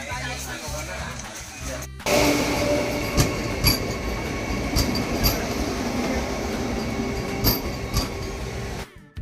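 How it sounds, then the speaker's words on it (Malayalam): Train standing and rumbling at Khed railway station, a steady broad rolling noise with faint metallic screeches and clatter, loud and close throughout with brief quiet gaps at start and end. "അങ്ങനെ നമ്മുടെ ട്രെയിൻ ഇപ്പോൾ നിൽക്കുന്നത് കേട് റെയിൽവേ സ്റ്റേഷനാണ് കേട്ടോ"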